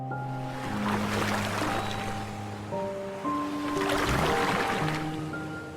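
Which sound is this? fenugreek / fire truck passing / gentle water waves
gentle water waves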